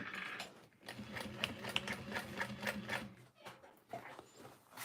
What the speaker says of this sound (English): as I'm top stitching this, I want to make sure that I'm rolling that down